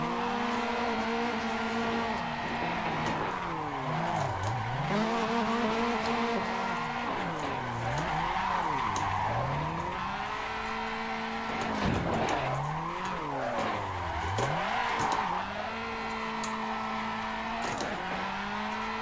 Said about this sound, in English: Car sounds so good from the outside.